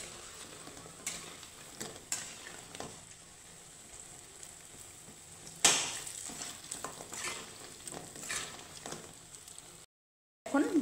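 Mung dal fritters frying in hot oil give a steady, close sizzle with scattered crackles and pops. The sizzle cuts out briefly near the end, then returns.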